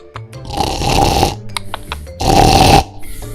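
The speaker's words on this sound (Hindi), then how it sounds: "कहकर खर्राटे लेते हुए सो गया" A sleeping truck driver snores loudly and close by, with two long, rasping, rattling breaths and softer snorts between them.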